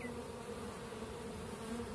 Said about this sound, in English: we'll let a few bees get on here